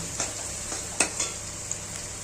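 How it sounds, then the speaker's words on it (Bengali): Vegetables for fried rice, seasoned with salt and a little sugar, sizzle steadily in a pan while a spatula scrapes and stirs them in a few distinct strokes, close and clear, with no talking. "আরেকটু ফ্রাই করবো"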